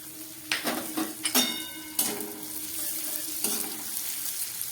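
Cashews and raisins fry in hot ghee in a pan with a steady soft sizzle, broken by several clinks and scrapes of a stirring spoon against the metal.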